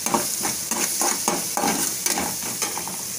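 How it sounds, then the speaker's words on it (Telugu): Masala frying in a pan with a steady, close sizzle and repeated stirring scrapes, tomato going into the hot oil with ginger garlic paste and curry leaves. "టమాటా వేస్తాను."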